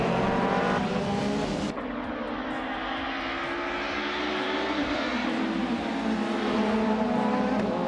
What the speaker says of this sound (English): the race is underway at Apricot Hill Reverse, and Amy is starting on pole in a classic 1999 Opel Vectra